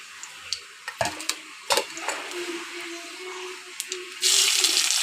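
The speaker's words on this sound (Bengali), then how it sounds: "কড়াইতে তেল দিয়ে দেব তেলটা গরম হতে থাক আমি তেলটা গরম হয়ে গেছে কালো জিরে দিয়ে দিলাম" Black cumin seeds are dropped into hot oil in a wok while cooking fish, with faint clinks and handling noises first, then a sudden steady hiss of sizzling near the end.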